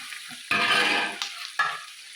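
Chooda ingredients frying in hot oil in a home kitchen, a soft continuous sizzle broken by a few sharp scraping stirs of a spoon against the pan, close and moderately loud.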